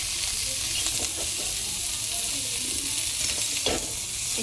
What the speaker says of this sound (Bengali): একটু হালকা করে ভেজে নিই